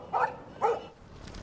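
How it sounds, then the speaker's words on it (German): Dog barking in the video game Life Is Strange, two short distinct barks about half a second apart over quiet background noise. "Warte mal, das ist doch ein Hund."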